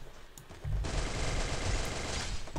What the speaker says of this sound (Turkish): Vallahi silah vuruyor arkadaşlar.